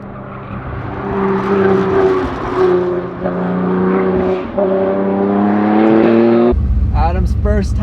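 A BMW E90 M3 with a manual gearbox drives hard on a canyon road, its engine note rising and falling through several revs, loud and close, from inside the cabin, with voices talking over it near the end.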